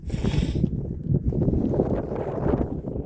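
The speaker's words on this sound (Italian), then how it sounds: "Il vento non molla" Strong wind buffets the microphone on the 2064-metre summit of Monte Rozza, a close, constant low rumble with gusty fluctuations and a brief brighter hiss at the start.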